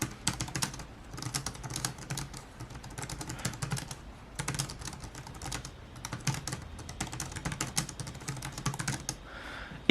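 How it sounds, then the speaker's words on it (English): Typing on a compact JLab Go wireless keyboard with non-mechanical, likely scissor-switch keys: a close, quiet, rapid patter of soft key taps in irregular bursts, continuing steadily for ten seconds without speech. "it types really well. I mean, this is not a mechanical keyboard."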